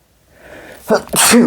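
A single loud sneeze, preceded by a short breathy inhale, close to the listener with no talking.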